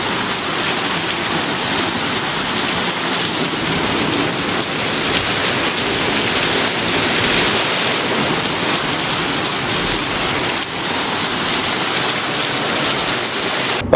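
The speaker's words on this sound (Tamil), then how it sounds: "சரியாக அடிக்குது மழை" Heavy rain pours steadily during a thunderstorm in Goa, a loud continuous dense roar of water on surfaces with no break throughout.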